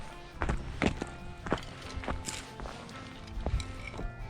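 Footsteps crunching and thudding through dense underbrush near an old gold mine on a hillside, an uneven run of moderately close, fairly quiet steps over brushy ground.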